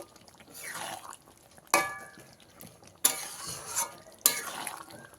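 A spoon stirs pointed gourd and prawns (potol chingri) with garam masala and ghee in a pan, making close, scraping strokes in a loose rhythm with soft sizzling between them.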